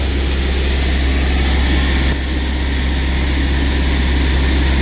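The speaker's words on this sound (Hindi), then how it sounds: "ये RPM और ऊपर जाएगा।" A Mahindra Scorpio S9 diesel engine runs steadily at raised revs during DEF regeneration, a loud, constant low drone held throughout without any change in pitch.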